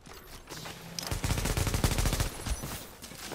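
Gunfire in a video game, with a dense burst of rapid shots close and loud for about a second and a half, then tapering off into quieter scattered shots.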